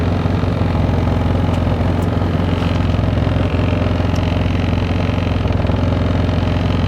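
A UTV engine idles without any sound deadening mat fitted, a loud, steady mid-pitched mechanical drone with constant rhythm and no voices.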